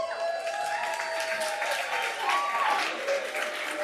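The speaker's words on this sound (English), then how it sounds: "we hold the applause for the players until the end" Applause at a Costa Mesa city council meeting for a youth baseball tournament of champions team, a steady, fairly faint ripple of clapping from the audience with no talk over it.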